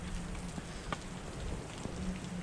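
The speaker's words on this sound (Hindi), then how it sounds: "अभी तो खैर बारिश हल्की हल्की हो ही रही है" Light rain patters steadily on surfaces in the Uttarakhand mountains near Hemkund Sahib, a soft continuous hiss with scattered drops and no voices.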